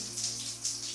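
A cold shower running, a steady hiss of falling water spraying onto a surface, with soft pulsing splashes over a brief stretch, close and continuous.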